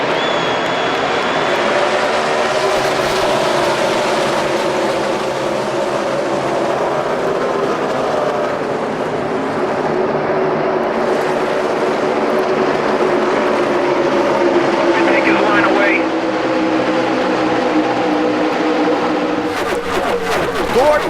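NASCAR Cup cars accelerating together on a restart, a loud sustained roar of multiple engines with shifting pitch as the field passes, ending in a sharper burst of engine noise.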